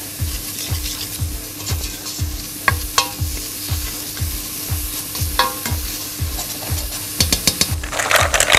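Garlic and onions fry in a pan, a steady sizzle punctuated by a regular rhythm of spatula scrapes and taps as they are stirred, close and continuous.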